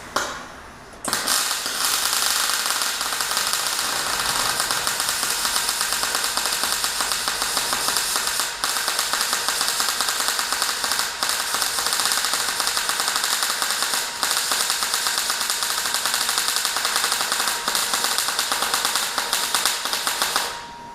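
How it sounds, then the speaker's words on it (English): MIG welding with a Mymag Mate 150 inverter welder while working on an unfinished trailer: a loud, steady crackling buzz that runs continuously for about twenty seconds, close up and with no voices. "see if I can't lay an alright looking weld there"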